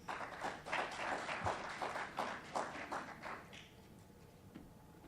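Audience at a state representative candidates forum in Illinois claps for a few seconds, a dense patter of applause that fades away toward the end.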